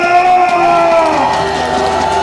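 Outdoor political campaign rally crowd on a city street in Jecheon, South Korea, cheering and whooping loudly as a presidential candidate takes the stage, with an amplified announcer's voice ringing over the sustained roar.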